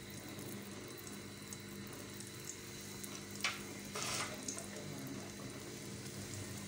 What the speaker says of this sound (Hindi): अब हम इसमें अपने कबाब डालना शुरू करेंगे।